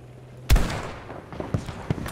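A single sharp gunshot cracks loudly, followed by a few fainter, distant pops in a Battlefield 2042 battlefield scene.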